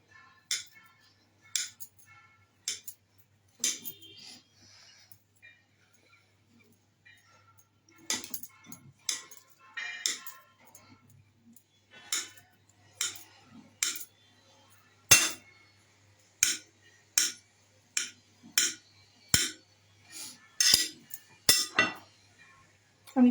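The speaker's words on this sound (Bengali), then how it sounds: "আমি চৌকো করে পিস কেটে নিলাম।" Knife strokes cut paneer into square pieces on a board, a series of sharp, separate taps with irregular pauses, later settling into a faster, more even chopping rhythm.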